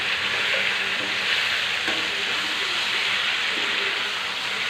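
Chicken fry sizzles steadily in a pan, a continuous soft frying hiss with faint occasional stirring clinks and no voices.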